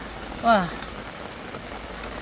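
Summer rain falls on a garden of potted plants and a vegetable patch with a soft, steady patter, while one voice gives a brief exclamation near the start.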